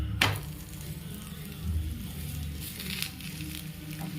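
Ragi adai frying in oil on a pan makes a soft, steady sizzle close up, with a brief sharp scrape near the start and a few faint clinks.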